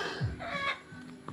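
A chicken clucks a few short, close calls amid faint background noise in a home yard, shortly before being slaughtered for a birthday meal.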